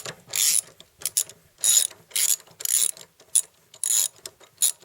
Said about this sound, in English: So let's remove that drain plug.